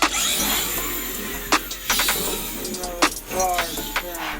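The motor of a Traxxas X-Maxx RC car with a HobbyWing Max5 800kv setup whines and revs in short bursts, rising and falling unevenly against a steady outdoor background.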